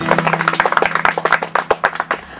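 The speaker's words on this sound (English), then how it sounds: "Clap for yourselves." Football players in a training session clap for themselves. A small group makes close, crisp, slightly unsynchronised claps in a quick, uneven patter that lasts a couple of seconds.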